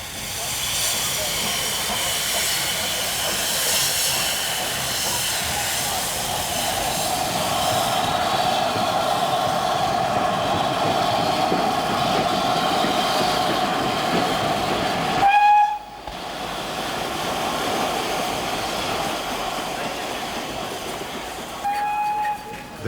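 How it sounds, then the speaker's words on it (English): The LMS Princess Elizabeth, a steam express locomotive, makes a sustained loud hiss and rumble of steam. A sudden break follows, then short whistle-like tones sound near the end. "The Princess Elizabeth was one of the fastest express engines that ran between London and Scotland in the heyday of steam."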